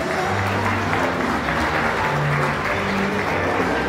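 Guests at a wedding evening applaud loudly with dense, steady clapping that fills the whole moment, while a faint voice may sit underneath.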